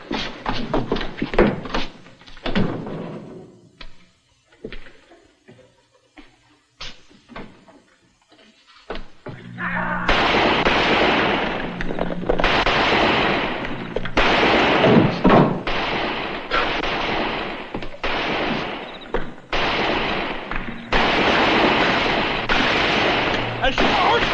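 Gunfire from an old Western drama cracks out in sharp separate shots, then becomes a dense, loud barrage of overlapping shots that keeps going.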